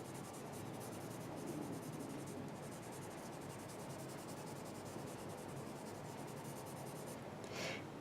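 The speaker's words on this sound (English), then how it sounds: "And I want to go in and put some texture with my black pencil." A black pencil adds texture to a drawing on paper while rendering kitchen materials. The soft, continuous scratching and rubbing is faint and close, with no talking over it.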